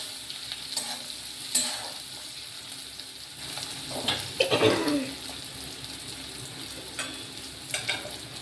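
Steady sizzling from a pan as ginger-cumin paste fries lightly, with a few sharper clinks and scrapes of stirring along the way; no voices.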